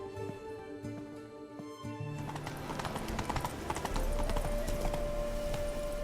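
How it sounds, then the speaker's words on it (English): Horse hooves clip-clopping on the ground with an occasional whinny, from The Witcher 3 video game, steady and fairly close amid game ambience and music. "Whoa there, Roach."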